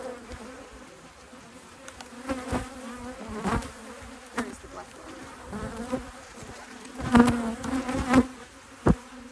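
Bees hover and buzz close around an opened top bar hive during an inspection, a continuous droning hum with brief louder swells, while a person talks over it now and then.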